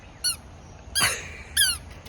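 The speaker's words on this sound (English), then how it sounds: "Scooby, bring me the squeaky ball." Three short rubbery squeaks from a toy, high and sharp, spaced apart with quiet gaps between them.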